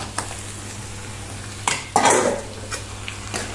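Meat is added to fried onion, ginger and garlic in a pan and stirred, with a low background hum broken by a few sharp scrapes and clatters of utensil on metal and a brief burst of sizzling, close and fairly quiet.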